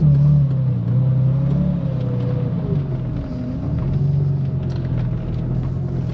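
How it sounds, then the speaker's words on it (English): Porsche 911 with fuel system trouble puttering slowly around a driveway, a continuous low engine rumble with a gently wavering tone, close and steady throughout. "I'm just gonna cut back and forth around the driveway for a moment here"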